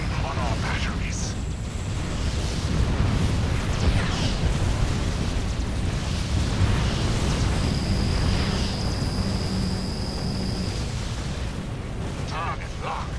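Starship batteries open fire in a Sword of the Stars space battle, a dense continuous barrage of rumbling booms and blasts under a steady hum, with a voice talking over the fire.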